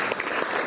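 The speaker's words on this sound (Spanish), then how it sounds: "pido un fuerte aplauso por esta gente que han estado con nosotros" An audience at a music CD presentation breaks into applause, a brief burst of dense, steady clapping from many hands.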